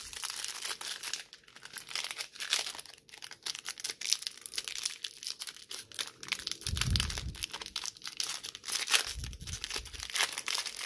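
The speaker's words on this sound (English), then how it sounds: "If we can get this pack open" A foil Pokemon card booster pack from a Galarian Moltres tin being torn open, with continuous close crinkling and tearing of the wrapper for about eleven seconds and a couple of low thumps of handling.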